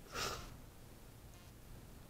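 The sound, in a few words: big sniff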